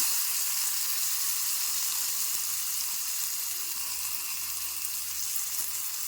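Masala and chopped vegetables fry in hot oil in a pan for a curry, a steady, dense hiss of sizzling that holds evenly throughout with no talking.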